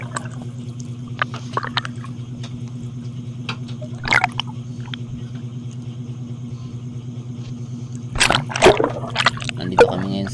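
Strong tidal current at high tide on a fishing trip, a steady low rushing flow close by with occasional splashes and knocks breaking through near the end.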